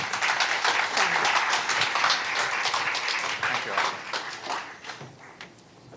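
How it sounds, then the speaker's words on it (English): A summit crowd applauds a speaker being introduced, a full dense round of clapping that holds steady for several seconds and then thins out toward the end. "please give him a big round of applause"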